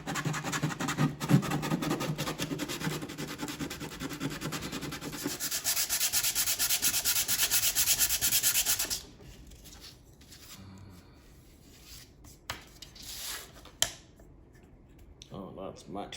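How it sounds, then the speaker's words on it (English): Old glue is scraped off the wood of a guitar's bridge area in steady, close rasping strokes for several seconds. Fainter scratches and soft handling noises follow. "I'll scrape this off and then I'll clear this area out so we can get a nice wood-on-wood connection"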